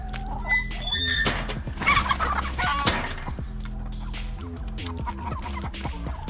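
Chickens in a coop cluck and squawk close by, overlapping calls and sharp clucks coming in busy, irregular bursts throughout.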